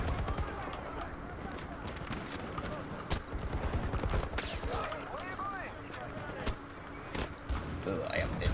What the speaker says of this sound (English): People just having like Panzerschreck shot at me.